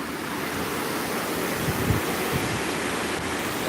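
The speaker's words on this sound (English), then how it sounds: "Ooh, that's definitely windy." Strong wind during Hurricane Florence roars as a dense, constant rush with gusty low buffeting against the microphone, loud and unbroken, with no voices.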